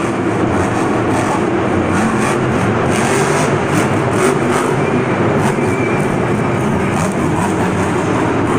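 The Monster Energy monster truck roars through its run at Monster Jam in Houston, its engine holding a loud, continuous, gritty drone with surges of revving, close and dominant with no talk over it.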